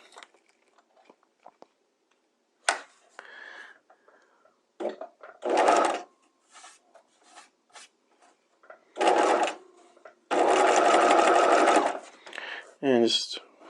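A sewing machine stitches a rolled baby hem close to a folded fabric edge, running in short separate bursts and then one longer steady run near the end, with quiet handling noises in the pauses between runs.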